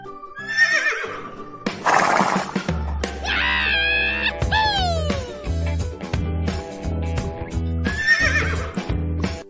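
A horse whinnies in a bright, shaky neigh that is mixed into a busy stretch of music, with a beat and other animal-like sounds around it.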